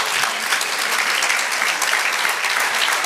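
A church congregation applauding during a sermon, loud and dense clapping from many hands sustained evenly for a few seconds, with no voices over it.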